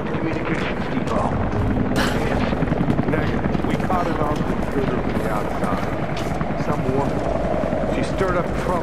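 A helicopter in Rise of the Tomb Raider drones steadily with a loud rotor roar throughout, while game characters talk over it.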